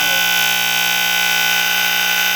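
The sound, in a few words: KF Industries Model 535 gas and smoke detector alarm sounding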